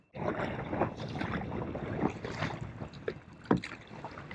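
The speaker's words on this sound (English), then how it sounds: "Okay, we'll get to paddling." Paddling a rowboat on open water while at anchor, with rhythmic splashing strokes and water wash under steady wind noise, close and moderately loud.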